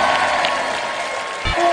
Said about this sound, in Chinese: 来掌声支持一下